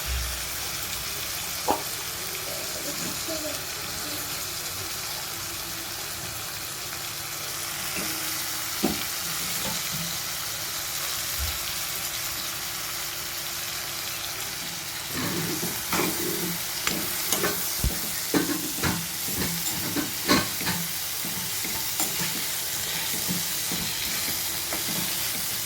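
Dried fish frying with green chillies crackles and sizzles steadily in a pan, with scattered sharp pops and stirring clatters that grow busier in the second half.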